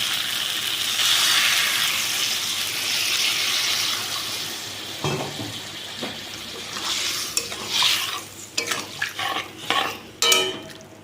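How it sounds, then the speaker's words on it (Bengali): Water pours and splashes into a pan of soybean curry gravy flavoured with curry leaves, starting as a steady hiss and then breaking into stirring, sloshing and a few clinks of a utensil against the pan. "এবার আমি জল দিয়ে দেবো।"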